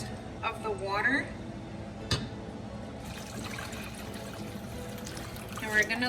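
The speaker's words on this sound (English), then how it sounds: "Okay, now I'm gonna add the rest of the water." Water is poured into a pot for Mexican meatball soup (caldo de albóndigas), a soft trickling splash running under kitchen background noise with a brief clink in the middle.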